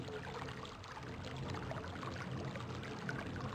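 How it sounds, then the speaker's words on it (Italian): Water drops fall into water in the video game Myst, a soft, continuous trickling and splashing with no voice over it. "Queste sono delle gocce di acqua che vanno nell'acqua, cadono, tipo pioggia, tipo l'acqua che scorre"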